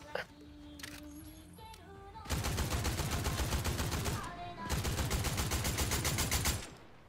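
Rapid bursts of automatic gunfire from a video game rattle out in two long sustained volleys, loud and close, after a brief stretch of quieter game sounds.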